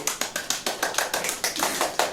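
A small audience at a presentation on an Ivy League admission application claps in an even, quick rhythm, each sharp clap clearly separated, close and moderate in level, with no talk over it.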